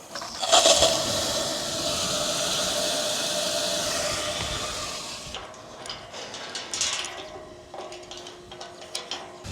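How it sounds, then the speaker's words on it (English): Water gushes from a float valve into a cattle trough, a loud steady rushing hiss that cuts off abruptly midway, followed by quieter splashing, clunks and trickling. "We'll let water start coming out of our float"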